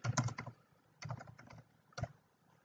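Someone types their name and login details on a computer keyboard while installing TestLink. Three quick bursts of close, crisp keystrokes are separated by short pauses, with no voice.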